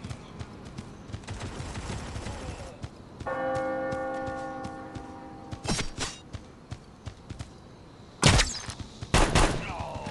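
Gunfire in the mobile shooter Guns of Boom: repeated rapid shots and sharp bursts with ringing tonal game effects, busy and loud, ending in heavy blasts, with game announcer voice lines over the action.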